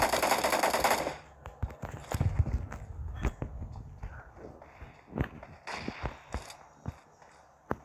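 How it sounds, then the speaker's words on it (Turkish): Gunfire in the mobile battle royale game PUBG Mobile: a loud burst of rapid shots at the start, then scattered sharp single cracks and short volleys at varying distances, close and punchy. "Ben yanlışlıkla vuruyorum."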